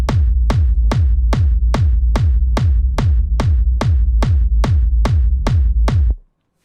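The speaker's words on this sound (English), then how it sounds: "First we have our low end that consists of the kick and the rumble and sounds like this." A deep techno kick drum pounds steadily, about fourteen even hits with a rolling rumble in the low end under each, loud and alone, then it stops abruptly.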